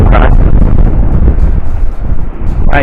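Strong wind roars steadily into the microphone, a loud, constant buffeting rumble with brief gusty swells.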